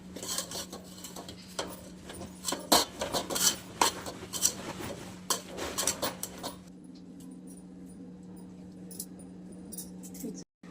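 A spoon scrapes and clinks against a metal pan while boondi laddu mixture is stirred, irregular close taps and rasps through the first two-thirds, then quieter with a steady background hum.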